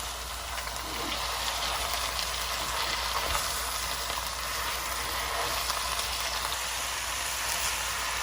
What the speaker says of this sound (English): So we want to fry our meat.